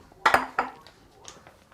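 Metal wok and cooking pans clank and clink as they are handled in a home kitchen, a few sharp knocks close by followed by lighter taps, with no talking.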